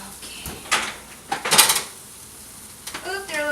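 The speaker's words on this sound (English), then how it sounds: "So I'm going to go ahead and take that out of the oven." A pan of spaghetti squash comes out of a kitchen oven with a few bursts of metallic clanking and scraping, then quieter handling, and a voice speaks briefly at the end.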